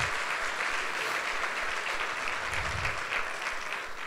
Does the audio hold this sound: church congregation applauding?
yes